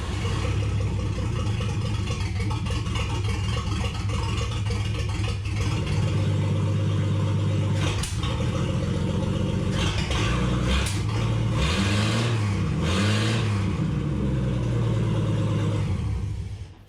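An old car engine on the Project Tetanus Gambler 500 build turns over and runs with a loud, rough, continuous rumble, with rising and falling revs near the end, close by.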